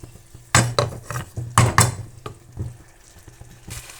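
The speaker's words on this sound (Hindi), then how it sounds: "अब ये शोरबा थोड़ी देर पकने दें" Potato and tinda shorba simmering in a pot, heard as a few sharp clinks and scraping stirs of a utensil over a low bubbling hum, moderately close.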